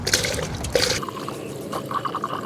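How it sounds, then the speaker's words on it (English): Distilled water poured through a funnel into the radiator of a Lexus GX460, a splashy liquid rush at first, then lighter trickling and dripping as the flow slows. "And now fill your vehicle with distilled water."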